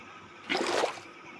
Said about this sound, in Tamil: பார்த்தீங்கன்னா கீழே ஊற்றிட்டோம்னா